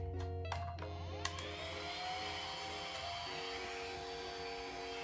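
Steady electric motor hum with whiny harmonics, like a small vacuum, from a Silk'n Infinity at-home hair removal device, running continuously and fairly quietly with a couple of brief clicks near the start.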